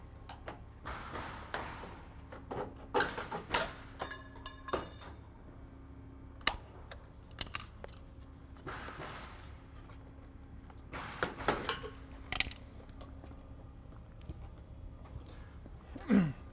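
Metal valley flashing cut with snips for a 1-inch tab, giving scattered crisp clinks, taps and thumps of sheet metal, some in quick bursts, with quiet pauses between them.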